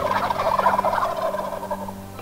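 Several wild turkey gobblers roosting in trees in Massachusetts gobble loudly and overlap in a dense, rattling chorus that fades slightly toward the end, with no talking.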